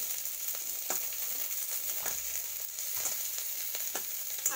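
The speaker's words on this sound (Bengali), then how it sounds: "আমার যে এই যে লঙ্কার টুকরোগুলো কেটে রেখেছিলাম, সেটা আমি একটু পেঁয়াজের সঙ্গে দিয়ে সামান্য একটু ভেজে নেব" Onions and chopped chilli pieces fry in a pan, giving a steady close sizzle with occasional soft crackles and stirring clicks throughout, with no talking.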